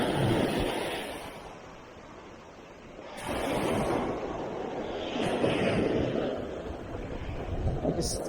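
Ocean surf washes steadily onto a beach near the Newport Hotel in North Miami, in loud rolling surges that rise and fall, with gusty wind noise over the microphone.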